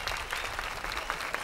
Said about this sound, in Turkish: Alkış, alkış, alkış, alkış.